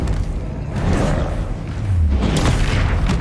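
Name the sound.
Expelliarmus spell impact in Hogwarts Legacy video game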